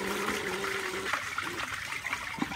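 A 1991 Briggs Conserver 1.5 GPF toilet flushes during a rag test, a steady rushing, gurgling water sound that continues throughout at moderate level.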